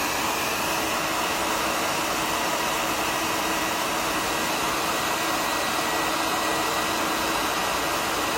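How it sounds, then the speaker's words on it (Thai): A hair dryer blows hot air at a fire alarm sensor, a steady close whooshing roar that continues unchanged throughout with no talk. "เราจะมีไดเป่าผมทำความร้อนนะครับ มาเป่าที่ ตัวเซ็นเซอร์ดูนะครับ"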